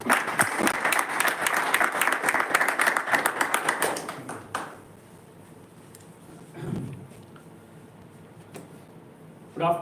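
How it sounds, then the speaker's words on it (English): Audience applause at a Toastmasters club meeting in Gurgaon: close, dense clapping for about four seconds, then it quickly dies away into quiet room tone with a faint murmur and a brief shuffle. "Please welcome him with a huge round of applause."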